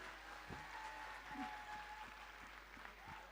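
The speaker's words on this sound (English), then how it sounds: "Give them a huge round of applause." An audience applauds the winning team at a school quiz competition, a faint, distant patter of clapping running steadily under a low hum.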